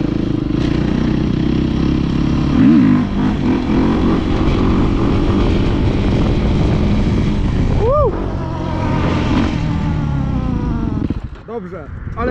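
KTM 350 and Beta 350 motocross bikes race each other in a village, their engines roaring loudly and steadily with rising and falling revs, while voices talk over the noise.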